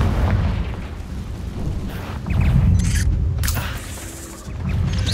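A Confringo spell blast in a Hogwarts video game lands as a loud, rumbling explosion with sustained low roar and crackling bursts that swell and fade across several seconds.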